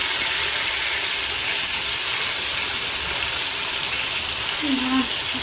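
Fish frying in hot oil in a home kitchen, giving a steady, loud, even sizzling hiss that runs unbroken throughout, with a faint low voice in the background.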